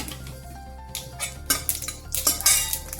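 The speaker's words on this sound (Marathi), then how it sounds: "तर हे तेल व्यवस्थित तापलं आपलं की मी याच्यात आता पहिले मोहरी टाकून घेते" Mustard seeds dropped into hot oil in a kadhai for tempering, with a rising crackle of popping seeds over clinks of a metal utensil against the pan, close and fairly loud.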